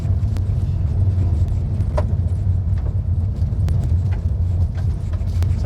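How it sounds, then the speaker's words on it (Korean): A Hyundai Kona small SUV drives along a slippery road, giving a steady, close low rumble of engine and tyre noise with faint light rattles on top and no talking. "자, 미끌미끌 거리면서 그래도 노면을 잘 붙들고 움직이고 있습니다."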